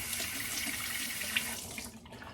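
Warm water runs steadily from a tap into a sink during a shave, a continuous close hiss and splash that tapers slightly toward the end, with no talk.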